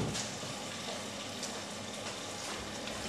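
Food frying in oil in a pan for an African dish, a steady, dense hiss and crackle that holds an even level throughout, close and continuous with no talk.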